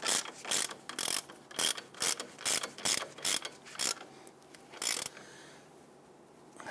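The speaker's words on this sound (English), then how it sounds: "Install that castle nut, thread that down. Go ahead and tighten this down." A ratchet tightens a castle nut onto the ball joint of a 2000-2006 Toyota Tundra front lower control arm: close, loud clicking strokes in a steady rhythm of about ten pulls, then a quieter ratcheting tail with no talk.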